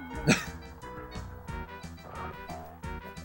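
A dog in the Nintendo 64 game Paperboy 64 lets out a single sharp bark early on, loud over steady background game music.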